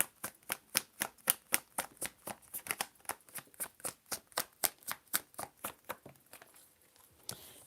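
Tarot cards shuffled in a steady run of crisp snapping riffles, about three per second, close and clear, slowing toward the end with one last slap, with no voices.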